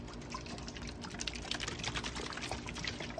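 Water poured into a bigger worm bin container housing red wriggler and Georgia nightcrawler composting worms, a steady close splashing pour with small drips running throughout.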